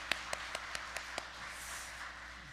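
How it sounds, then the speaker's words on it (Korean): A handful of sharp, evenly spaced single claps from a church congregation during a Korean worship service, about six in a row, then fading into quiet room tone. "우리 함께 하나님 앞에 영광의 박수 올려주셨으면 좋겠습니다."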